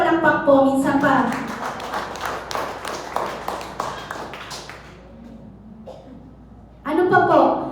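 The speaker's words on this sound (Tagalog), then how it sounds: "Malakas na palakpak po, minsan pa." A church congregation applauds loudly, a dense burst of clapping that builds and then fades out, with a voice speaking before and after.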